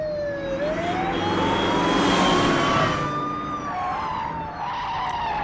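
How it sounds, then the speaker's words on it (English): Tire skid and engine roar from a 1971 film car chase in Diamonds Are Forever, a loud continuous screech with gliding squeals and a wailing siren-like tone over dense rumbling traffic noise, no talk. "show me a cool car chase"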